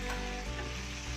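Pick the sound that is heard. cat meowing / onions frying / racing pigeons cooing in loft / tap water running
onions frying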